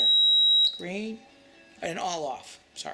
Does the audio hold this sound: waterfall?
no